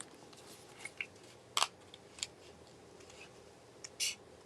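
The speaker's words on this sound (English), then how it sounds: "you can see that my scissors are working just fine" Scissors snip through paper sheets to round off card corners, a few sharp, close cuts spaced irregularly over a quiet room background.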